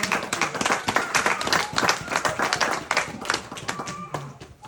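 A church congregation claps together in a lively, uneven patter of many hands, close and fairly loud, with voices calling out faintly beneath the applause.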